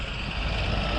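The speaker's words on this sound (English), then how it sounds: "Very nice lorry." A lorry rumbles by close at hand with a steady, loud engine roar, its reversing beeper sounding over the noise throughout, no voices present.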